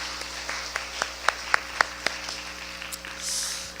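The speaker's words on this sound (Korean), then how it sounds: "우리 박수로 한번 격려하면서" Scattered, sparse handclaps from a church congregation during a Sunday afternoon service, about a half-dozen separate claps spaced across a few seconds with low hum beneath, ending in a soft wash of noise.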